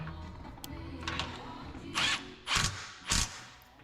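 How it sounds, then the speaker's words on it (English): Sway bar bracket bolts are torqued to 40 foot-pounds with a wrench, producing several short close ratcheting clicks and metallic bursts with quiet gaps between. "be sure to torque the bolts to 40 foot-pounds to ensure everything is tight and properly fastened"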